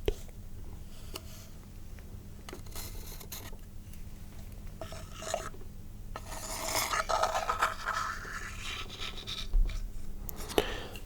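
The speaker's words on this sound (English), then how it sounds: "using the chopstick across the face" A chopstick rasps and rubs across a wooden surface in steady, scratchy strokes, quiet and close, growing a little busier toward the end.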